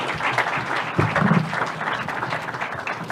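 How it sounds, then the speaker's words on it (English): An audience at a formal government development partnership event gives a round of applause, sustained dense clapping in a large hall, with a faint voice briefly heard beneath it. "Kindly let us give him a round of applause."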